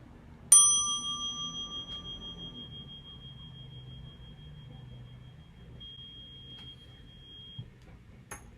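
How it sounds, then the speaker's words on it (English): A meditation bell struck once, a clear ringing tone that rings out and slowly fades over several seconds in a quiet room, with a faint soft tap near the end. "experience the bell."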